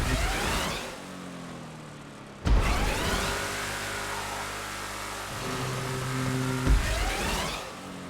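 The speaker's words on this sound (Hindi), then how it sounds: "अबे ऊपर नहीं चढ़ रही यार ये गाड़ी" Car engine in the video game GTA 5 revs hard and strains while climbing during a parkour run, its pitch rising and falling in steady sweeps with a sharp jolt partway through, loud and continuous with no talking.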